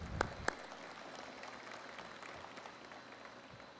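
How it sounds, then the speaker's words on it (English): Faint, distant audience applause at a banknote design reveal ceremony, a soft continuous patter of clapping with a couple of sharper claps near the start, heard in a large room. "Please, ladies and gentlemen, just some applause."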